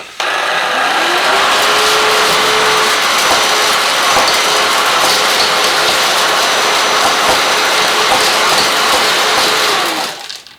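A cheap fake Dyson-style stick vacuum cleaner runs loud and close while picking up a sock, giving a steady broadband whoosh of suction with a faint whine, cutting off abruptly at the end, no voices.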